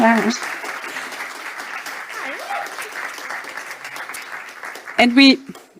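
An audience at a female founders stage event keeps up steady applause behind a speaker's voice, the clapping holding a dense, moderate level before a louder burst of speech near the end.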